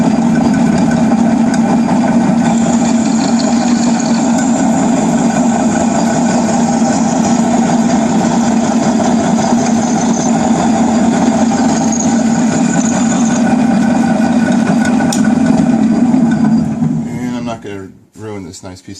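Shaffner lathe running steadily, turning aluminum stock held in a live center; a continuous mechanical hum with faint high whine, close and loud, winding down abruptly near the end.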